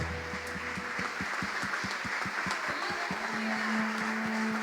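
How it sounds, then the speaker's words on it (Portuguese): During a church worship service, the congregation claps in a steady, even rhythm alongside sustained musical tones, the beats loud and regular throughout. "Você pode aplaudir ao Rei dos Reis, amado"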